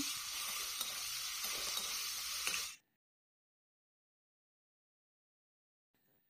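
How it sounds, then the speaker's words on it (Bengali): Cut potatoes fry in hot oil with salt and a little turmeric, giving a loud continuous sizzle with stirring for under three seconds before it cuts to silence. "এর মধ্যে নুন আর অল্প পরিমাণ হলুদের গুঁড়ো দিয়ে ভালো করে লাল লাল করে ভেজে নেব।"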